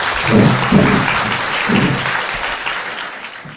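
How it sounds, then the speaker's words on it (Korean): Studio audience applause at a Korean live talk show, a dense steady wash of clapping that swells early and then holds, loud and close throughout with no talk over it. "요 사안을 계속해서 놓지 않고 있었던 참여연대 변호사님에게 박수 부탁드립니다."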